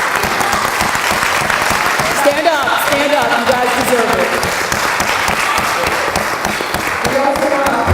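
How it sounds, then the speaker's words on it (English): At a Seton Hall Black alumni financial planning event, the audience applauds the volunteers with loud, sustained clapping, while a speaker's voice carries over the crowd noise. "can we have all of your individuals that took the time to do this for us to applaud them?"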